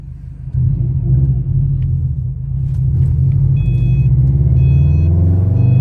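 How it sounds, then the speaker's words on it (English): Subaru WRX with a swapped EJ20X engine and dual port blow-off valve idles and builds in a steady low rumble close by, with faint high whistling tones coming through near the end. "the dual port blow-off valve is very nice. It sounds good."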